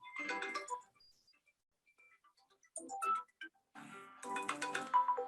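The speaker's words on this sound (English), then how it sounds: "Somebody's phone's ringing?" A smartwatch plays a short electronic phone-style ringtone melody in bursts, with quiet gaps between, fairly close and moderately loud.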